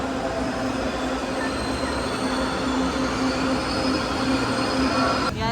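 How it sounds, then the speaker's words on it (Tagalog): A train rolls in continuously and close by, a steady loud rumble of wheels on rail with a sustained squeal, with no talking over it. "Kaya na po yung tren, medyo natagalan."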